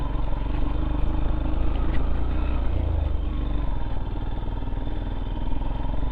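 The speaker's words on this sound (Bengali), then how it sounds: "বাইক টানতেছে না আমারটা।" A motorcycle engine labours uphill on a steep hill road. It gives a continuous, close, rough droning hum with a rattly edge and no pauses, and no voices are heard.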